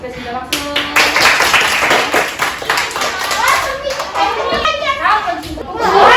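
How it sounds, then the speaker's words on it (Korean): Schoolchildren clapping in an elementary classroom, a quick burst of many small hands mixed with children's chatter and voices throughout. "박수"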